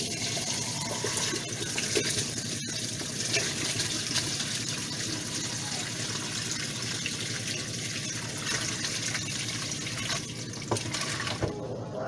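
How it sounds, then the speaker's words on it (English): Pickles and their liquid are slowly poured from a bucket into a colander to drain, a steady continuous gushing splash of liquid that holds for several seconds, close and without talk. "I'm going to be pouring them into the colander so that it can start draining"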